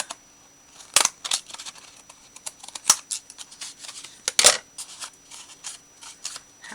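Scissors snip and chew at watercolor paper without cutting cleanly, giving a series of crisp, irregular crunching snips, some sharp and loud, close up with no talk.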